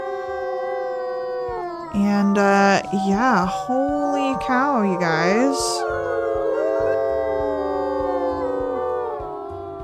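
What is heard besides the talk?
wolf pack howling in victory, WolfQuest video game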